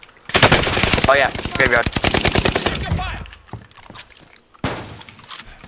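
Heavy machine-gun fire in a multiplayer shooter match, a long, loud, rapid run of close shots, then a pause and another burst, with players talking over the shooting.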